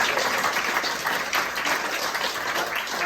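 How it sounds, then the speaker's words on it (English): Steady round of applause from an audience at an Eagle Scout Court of Honor for Sam Colton's parents, sustained clapping throughout with no break. "we have to give it a round of applause"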